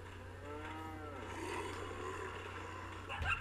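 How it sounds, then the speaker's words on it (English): Cattle in the video game Resident Evil 4 give a drawn-out, faint moo over a steady low game ambience, ending with a brief sharper sound. "Moo cows."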